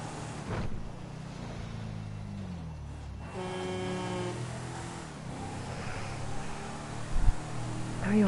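A car horn honks in the GTA 5 video game, one sustained blast of about a second rising over steady engine and traffic rumble, with low vehicle drone continuing around it.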